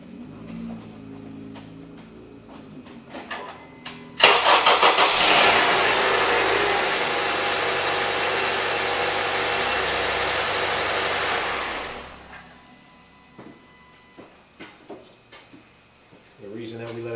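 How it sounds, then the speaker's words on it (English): A 2008 Honda CR-V engine cranks and catches after an oil change, then runs at a loud, steady idle for about eight seconds before shutting off, with talking before and after. "then you start it up and you let it run for just a couple of minutes"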